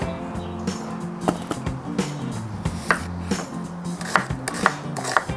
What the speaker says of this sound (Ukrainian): Я нарізаю цибульку напівкільцями